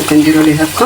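Khlii, Moroccan preserved dried meat, frying in its fat in a pan, giving a loud, steady close-up sizzle and crackle, with a voice talking over it.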